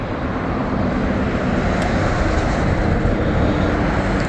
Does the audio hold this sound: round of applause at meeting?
no